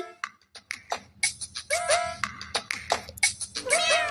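A voice imitates a cat with a quick series of rising, sing-song meows, about half a dozen, close and fairly loud.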